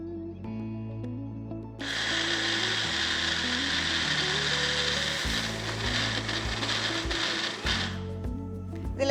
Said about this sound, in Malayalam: ഇത് അരച്ചെടുക്കാം.